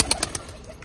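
Pigeons kept on a rooftop loft coo in a few soft, repeated pulses, close by and fairly faint against a light outdoor background.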